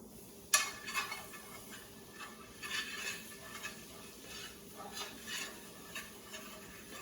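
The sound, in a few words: stirring flour into bacon grease for gravy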